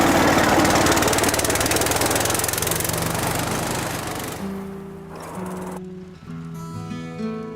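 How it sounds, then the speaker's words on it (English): A small red tractor's engine runs loud and rough in a rural Cotswolds setting with a dense steady chugging roar that fades, after which a few steady tonal notes take over. "The little red tractor's out."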